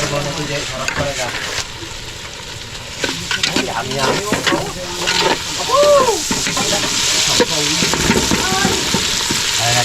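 Tomatoes stirred into a hot, sizzling pan ahead of native mussels, with steady frying hiss and repeated spatula scrapes close by, while a voice speaks intermittently over the cooking.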